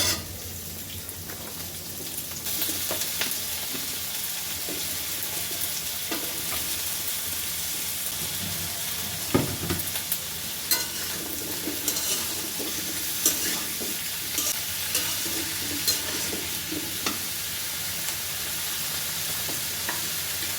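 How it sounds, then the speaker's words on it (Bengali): Onions and chillies frying in a pan for a Chinese vegetable dish give a steady, dense sizzle throughout, punctuated by occasional clicks and scrapes of a spatula stirring. "পেঁয়াজ মরিচটা একটু হালকা ভাজা হলে তারপরে আমি সবজিগুলো দিয়ে দেবো"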